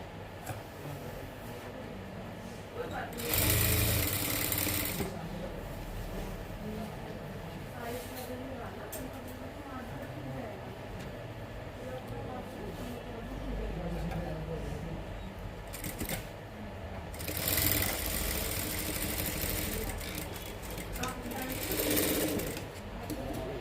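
A sewing machine stitches close to the edge of a pant pocket, a constant rapid whir with several louder surges as the stitching speeds up. The room sounds busy throughout, and a voice may be talking faintly underneath.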